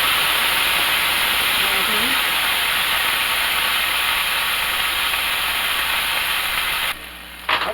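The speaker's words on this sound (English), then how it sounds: "I'm going to add a little bit of water just to help it steam and to soften that bun" Loud, continuous hissing of water steaming on a hot griddle around a slider bun, holding steady for several seconds before cutting off abruptly near the end.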